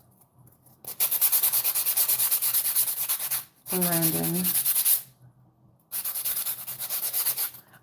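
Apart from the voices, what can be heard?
filing fingernails with a nail file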